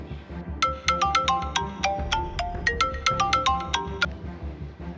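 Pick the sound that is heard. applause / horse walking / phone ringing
phone ringing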